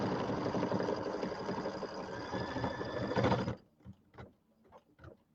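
A Luminaire embroidery sewing machine stitches a quilted table topper, giving off a loud, dense mechanical chatter that stops abruptly after about three and a half seconds. Scattered small clicks and handling noises follow.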